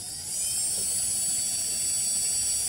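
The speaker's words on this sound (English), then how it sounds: "And to do that, we have to drill a hole." A high-pitched power drill whirs steadily, close and continuous, spinning up at the start and holding its whine with no talking.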